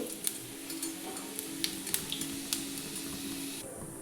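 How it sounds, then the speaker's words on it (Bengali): Whole cumin seeds sizzle in hot oil in a wok, a soft steady frying hiss broken by faint scattered pops and crackles, quiet and close. "তেল দিলাম গোটা জিরে দিচ্ছি"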